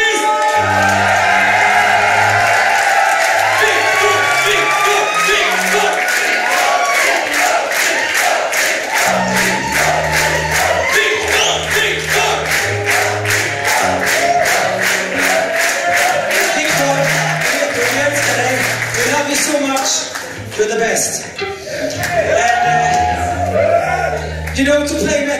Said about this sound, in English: give him a big metal scream for our sound engineer, Victor Stenqvist!